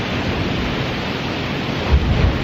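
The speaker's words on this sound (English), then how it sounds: "seeing the waves crash up on the rocks" Ocean waves crash on coastal rocks near a pirate tower, giving a loud, continuous roar of surf with a couple of heavier thumps of breaking water near the end, and no voices.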